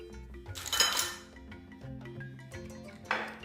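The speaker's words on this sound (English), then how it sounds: "Give that a really good mix" Banana and mango bread batter being mixed in a bowl: scattered clinks and taps of a utensil against the dish, with a louder burst near the start and another later, over quiet background music.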